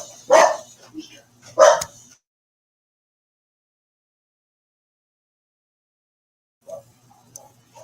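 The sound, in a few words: dogs barking at a car pulling into the driveway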